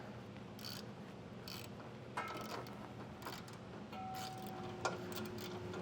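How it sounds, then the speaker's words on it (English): A ratchet with a 15mm socket turns bolts while a Class III trailer hitch is fitted to a 2017 Ford Transit T350, giving quiet, sparse clicking over a steady background hum. "Now we can come back with that 15mm socket and those oblong hardware and run those back up into place."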